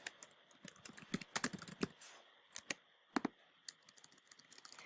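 Someone types on a computer keyboard while editing text in a template, producing faint, irregular bursts of quick clicks with short pauses between them.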